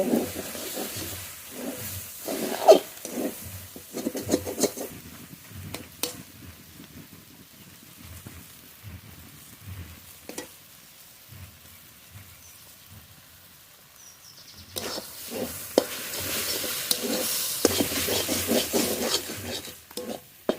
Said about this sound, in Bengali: এবার নেড়ে নেড়ে খুব ভালো করে ভেজে নেব